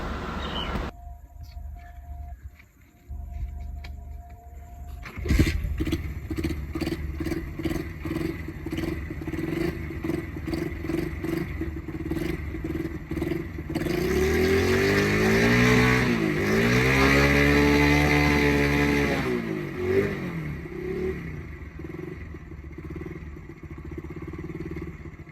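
A faulty motorcycle in a village starts after a few seconds of quiet, then idles roughly with a clattery beat before revving up and down in loud, uneven surges close by.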